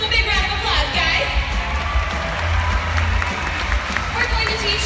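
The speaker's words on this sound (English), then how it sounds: "let's give them a big round of applause, guys" Crowd applause and cheering at a Sea World San Antonio killer whale show, loud sustained clapping with whoops from a large audience, mixed with a voice over a loudspeaker.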